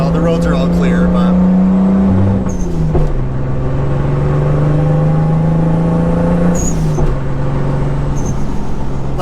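A Mk3 Toyota Supra with an HKS SS QV exhaust drives a snowy canyon road, its engine droning steadily from inside the car with small shifts in pitch and a gear change, while someone talks over it.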